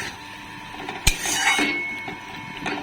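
Spiced masala for a raw banana curry is stirred and scraped around a pan with a little added water, giving steady close rubbing and scraping with a sharper knock near the start and lighter scrapes after.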